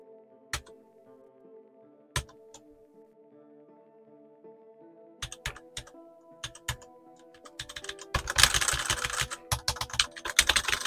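Typing on a Spigen ArcPlay keyboard, isolated clicky key presses at first, then quickening into a fast dense flurry of close, crisp keystrokes in a quiet room.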